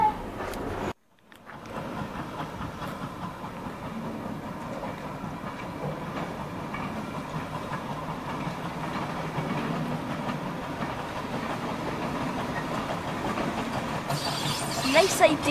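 A diesel train at Didcot Railway Centre rumbles at moderate distance, a steady low engine drone with faint rolling noise that holds throughout, briefly cut near the start.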